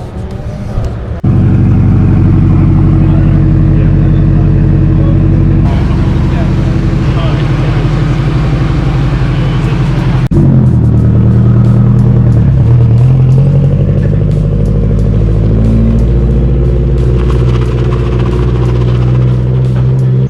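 Cars and engines from a Perth street car meet steadily rumble and rev as they drive out of the car park, a continuous loud mix of nearby motors with brief louder passes.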